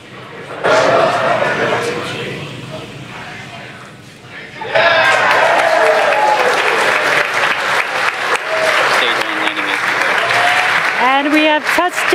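A crowd cheers and applauds during a SpaceX Falcon 9 first-stage booster landing on a drone ship for a Starlink mission, rising from scattered whoops to loud sustained cheering with shouts and whistles, under a voice on the broadcast.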